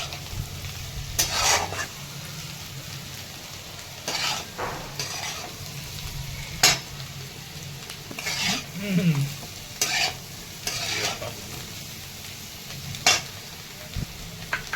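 Potatoes with cumin sautéing in a pan for jeera aloo, a steady soft sizzle broken by repeated scrapes and stirs of a spoon against the pan, close up with no talking.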